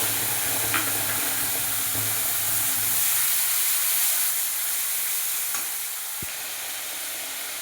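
Ground spice paste fries in hot oil after a tempering of nigella and cumin seeds, giving a steady close sizzle and hiss with occasional scrapes of stirring throughout.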